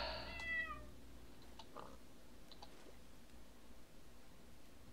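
A single cat in modded Minecraft meows near the start, a bright wavering cry, followed by quiet background ambience with faint ticks and rustles.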